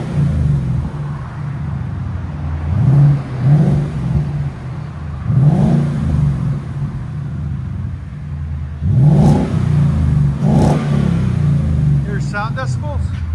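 A 2017 Ford Mustang GT with a 5.0L V8 and a Magnaflow axle-back exhaust gives several throaty rev blips over a rumbling idle, loud and close, while people talk over it.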